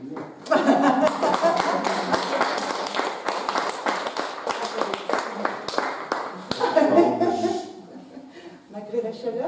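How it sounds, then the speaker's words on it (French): Audience at a conference on contact with the deceased clapping, irregular bursts of claps mixed with laughter and chatter, lively and close, fading out near the end as voices take over. "On peut peut-être vous applaudir."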